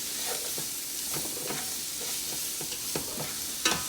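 A lamb braise with thyme, peppercorns and parsley stems is stirred in a pot, giving a continuous close sizzle and hiss with regular scraping strokes and a sharper knock near the end.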